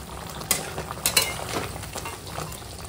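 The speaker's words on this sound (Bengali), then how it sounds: "দেখো এখন এখানে মাংসটা রান্না হচ্ছে" Chicken for butter chicken cooking in a pan, a soft steady sizzle broken by a few brief stirring scrapes, close and fairly quiet with no talking.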